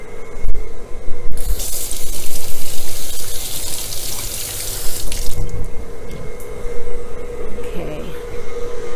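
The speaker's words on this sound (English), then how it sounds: "I am going to wash my hands meantime." Tap water gushes steadily into a kitchen sink during hand washing, loud and close, with a mixer humming underneath and brief speech over it.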